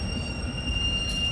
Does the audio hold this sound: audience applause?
no